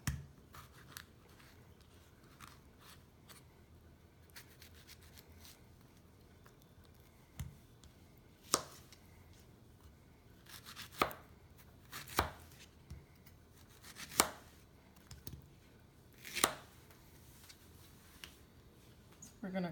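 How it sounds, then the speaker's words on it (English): Ripe peaches being cut with a knife on a board, giving a run of sharp, irregular chops that grow louder and more frequent toward the end, with faint background noise in between. "gonna cut all our peaches"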